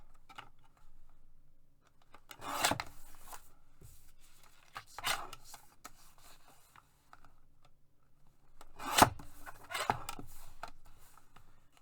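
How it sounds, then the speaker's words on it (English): Scissors trimming white edges off paper, a few quiet separate snips and crisp paper rustles spaced several seconds apart against near silence. "Right now I'm just trimming off the white edges."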